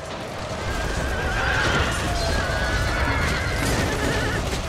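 A horse whinnies amid the din of a Shogun 2 battle, its neigh rising over a constant wash of combat noise and hoofbeats, loud and close for several seconds.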